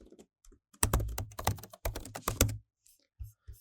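Rapid bursts of keystrokes as code is typed on a computer keyboard during a linked-list programming lecture, loud and close, with short pauses between clusters and no talking.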